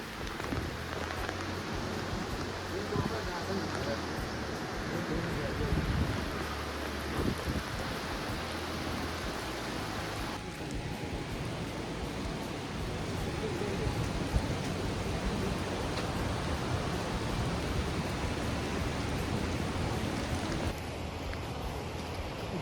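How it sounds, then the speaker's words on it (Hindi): Heavy rain falls steadily in a dense, hissing wash on a mountain road during a Himalayan pilgrimage trek, continuous and enveloping throughout with no pauses. "भयंकर बारिश हो रही है।"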